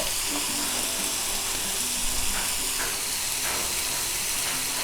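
Onion frying in oil in a pan, cooked until pink for a Konkan wild-vegetable dish: a steady, dense sizzle with faint stirring scrapes, heard alone and at close range.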